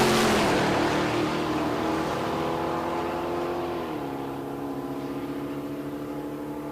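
2016 Dodge Charger and 2019 Challenger muscle cars launching down a drag strip, a loud roaring engine blast at the start that sweeps upward through gear changes and fades steadily as the cars pull away.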